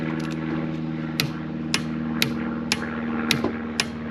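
A torque wrench tightens a caravan wheel nut: a steady run of sharp ratchet clicks, about two a second, over a constant low mechanical hum, close by with no voices.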